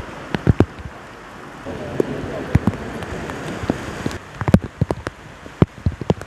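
A short heavy rain shower in Balıkesir, Turkey, a steady hiss of rain on the street punctuated by irregular sharp knocks and splashes nearby, with wind buffeting and occasional voices in the background.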